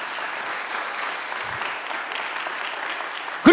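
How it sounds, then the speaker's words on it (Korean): A church congregation at a Friday worship service claps in steady, full applause that fills the room, ending with a brief louder burst. "하나님께 영광의 박수를."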